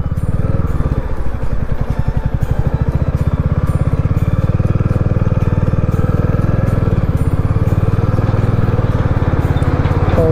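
Motorcycle riding off-road through mud on a mountain route between Kedarnath and Badrinath, its engine chugging steadily and loudly up close throughout with a rough, pulsing clatter.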